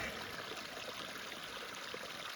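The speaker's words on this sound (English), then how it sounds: "Look at how fast our water's filtering." Water trickles steadily through a backpacking water filter on the Pacific Crest Trail, a soft continuous stream heard close and fairly quiet, with no talking.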